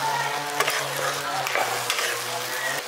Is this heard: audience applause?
no